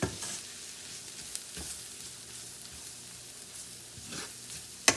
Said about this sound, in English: Give this a good mix around here.